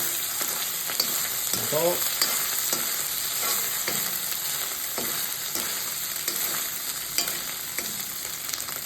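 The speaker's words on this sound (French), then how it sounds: "mettez un petit peu d'huile, friez un bombi là. Il va peut-être trop frier" Bombay duck fish frying in oil in a pan: a steady, close crackling sizzle with scattered pops and a few stirring scrapes, while a voice speaks briefly.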